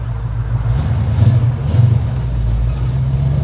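Rebuilt Pontiac 400 V8 bored out to 470 cubic inches, idling in a car after first fire, a loud steady low rumble with a couple of brief swells as it settles.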